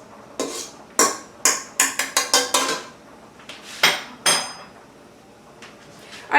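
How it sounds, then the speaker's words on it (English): A spoon breaks up egg yolks in a bowl with a run of sharp, close clinks against the dish, coming in irregular bursts with short pauses between. "I am just going to grab a spoon and I'm going to break these egg yolks up"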